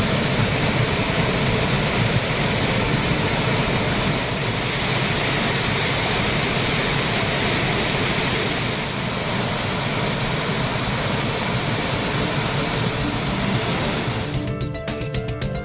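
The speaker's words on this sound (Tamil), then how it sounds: "அருவியில் திடீரென்று நீர்வரத்து அதிகரித்தது" Waterfall surging with suddenly increased flow after heavy rain, a loud, constant roar of rushing water that fills the whole stretch without pause or voices.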